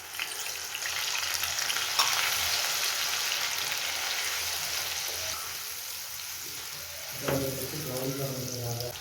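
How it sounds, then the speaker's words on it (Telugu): Onion paste frying in hot oil gives a steady, close sizzle with light stirring scrapes, and a brief clatter and voice-like tones near the end. "ఉల్లిపాయ పేస్ట్ బాగా వేగి బ్రౌన్ కలర్ రావాలి"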